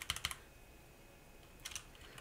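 A Zifriend ZA646 budget compact keyboard is typed on in short bursts: a quick cluster of crisp clacks at the start, a pause, then a few more keystrokes near the end, close and fairly quiet.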